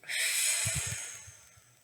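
A single deep exhalation during a guided breathing exercise, a soft airy breath out that fades gradually, close and alone without talk.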